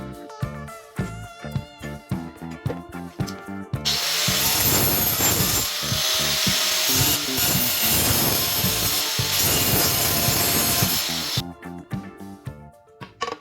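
An angle grinder fitted with a glass and ceramic cutting disc makes a loud, steady, harsh roar for about seven seconds. Quieter tonal sounds come before and after it.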